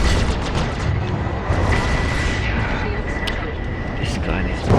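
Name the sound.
missiles exploding, Star Citizen video game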